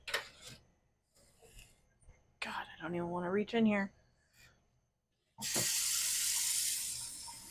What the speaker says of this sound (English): Let's go ahead, release the water.